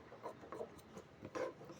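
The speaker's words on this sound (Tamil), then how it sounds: "இந்த மாதிரி நம்ம சுற்றி அந்த வேஸ்ட்டெல்லாம் நம்ம கட் பண்ணி எடுத்துக்கலாம்." Waste fabric being trimmed away around a piece before sewing: a few soft, close rasping snips of cutting, quiet and alone.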